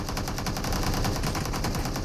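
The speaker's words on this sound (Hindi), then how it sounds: "रस करते टाइम मेरे पे सामने से फायर आता है और मैं कवर में चला जाता हूँ।" Rapid automatic gunfire in PUBG, a dense unbroken burst of sharp shots lasting about two seconds, loud and close with no voices.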